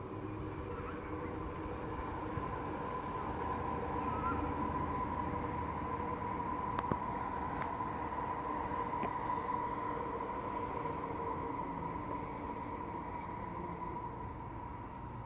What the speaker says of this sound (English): Every time I mention a loud train,